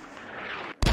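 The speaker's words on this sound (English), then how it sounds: "Sent 3 mortars after that first one" Mortar rounds fire in a Squad-style military video game: a brief rushing whoosh fades out, then after a short gap a sharp, heavy boom hits hard at the very end.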